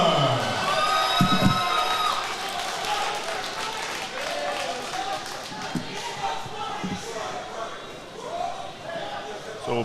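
A crowd cheers and calls out in support of Scottish boxer Ben Bonner at a junior and youth boxing championship bout, a steady loud roar of voices filling the hall throughout with no quiet gaps.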